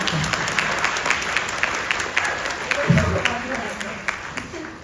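Audience applauding at a live talk event for a Korean singer's third EP, a dense steady patter of many hands filling the room, fairly loud and close, with a few voices mixed in.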